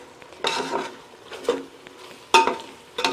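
A ladle stirs partly cooked chicken dum biryani masala in a pot, making four or five separate scraping, sizzling strokes with short quiet gaps between them.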